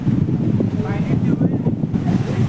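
Cold wind gusts across the beach at Harihareshwar on the Konkan coast. It buffets the microphone with a loud, rumbling roar that rises and falls over a few seconds.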